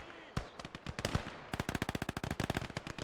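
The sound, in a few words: gunfire in the video game Gates of Hell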